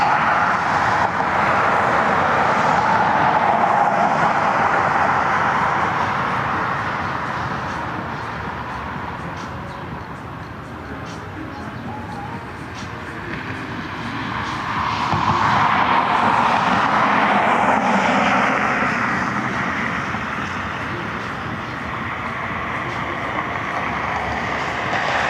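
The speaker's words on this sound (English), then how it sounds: "In the background, I see Aer Lingus taxiing out." An Aer Lingus airliner taxiing out at Cleveland Hopkins airport gives a distant, broad roar that swells, eases and swells again over outdoor wind noise, with no talking.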